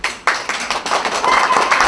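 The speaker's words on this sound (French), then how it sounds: "On va surtout les applaudir très fort pour les encourager." A crowd at a June show claps loudly to encourage the performers. The applause is dense and steady and builds slightly.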